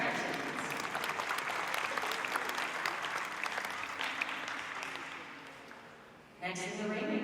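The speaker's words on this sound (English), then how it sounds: "Let's have a round of applause for our best known bred Jersey, Senior 3-year-old Elliott Cosmo Action." Sustained audience applause at a Jersey dairy cattle show, steady and fairly close for about six seconds, then fading as a voice speaks over a PA.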